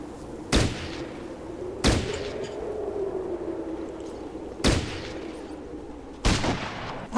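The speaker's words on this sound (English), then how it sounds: "Let's switch the shotgun to double barrel and come around this corner and nuke this guy." A double-barrel shotgun fires in the video game Fallout Tactics: four loud, sharp blasts spaced a second or more apart, each followed by a short decaying boom over a quiet low hum.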